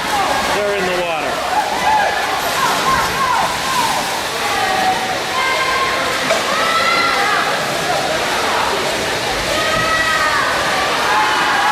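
Relay swimmers thrash through the water during a middle school meet, a dense, continuous wash of splashing with crowd noise and a commentator's voice over it.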